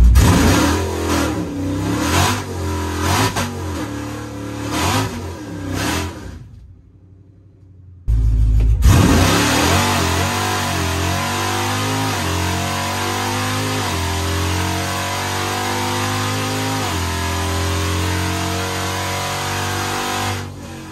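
A truck with a 5.7L Hemi V8, suspected of a lifter tick at 50,000 miles, revs hard during a run. The engine roars loud and close, rising and falling in pitch, then drops out briefly before a long, sustained, climbing pull with no talking.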